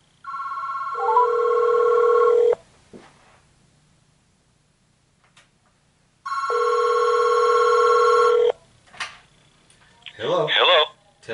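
A vintage General Electric 2-9175A 12-memory telephone rings in two loud electronic bursts of about two seconds each, separated by silence, followed by a brief voice.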